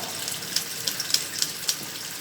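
Snow lotus being rinsed under a running kitchen tap, a steady soft hiss of flowing water with a few brief splashy spikes as the pieces are washed.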